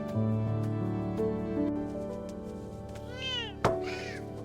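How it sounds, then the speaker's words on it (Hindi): A cat meows a few times close by in a kitchen, its drawn-out cries rising and falling over a steady background hum, followed by one sharp clatter. "ये तो बिल्ली है।"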